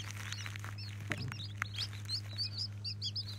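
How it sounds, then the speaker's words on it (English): Baby chicks in a brooder under a radiant heat panel peep steadily with many soft, high chirps that overlap, over a constant low electrical hum. "Little happy chicken noises."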